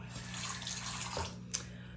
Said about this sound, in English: I add a little water to my hands to kind of get this lathered up.